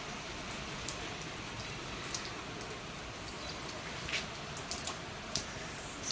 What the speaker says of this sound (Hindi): ये देखिए बारिश आ गई